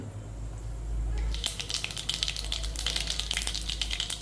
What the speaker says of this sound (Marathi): तेल गरम झाल्यानंतर यामध्ये मोहरी